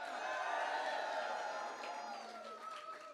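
Large crowd cheering and applauding at a political victory rally in Maryland, a dense roar with whoops, fading slightly under a voice speaking over it.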